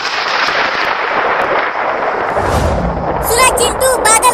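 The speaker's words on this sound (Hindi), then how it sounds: "बादल गरजने लगा" A deep, rolling rumble swells and crackles across the whole stretch, like distant thunder, with a few high electronic chirps near the end.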